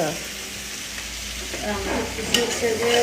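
Raw banana cooking in a pan gives off a steady, close sizzle of frying with light stirring throughout, growing a little louder toward the end.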